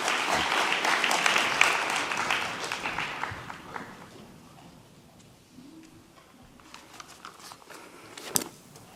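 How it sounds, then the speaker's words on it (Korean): A Korean church youth congregation gives a welcoming round of applause that starts dense and fairly loud, then thins and fades to scattered claps and quiet room noise with a sharp knock near the end. "우리 다시 한번 환영의 박수 부탁드립니다"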